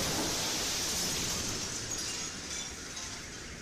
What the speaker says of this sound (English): It's the sound of the sonic boom caused by a large object travelling incredibly fast through the atmosphere